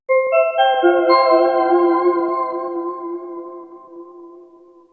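Guitar notes ring out in quick succession through a Walrus Audio Lore ambient pedal and sustain into a shimmering, layered wash that slowly fades, heard alone.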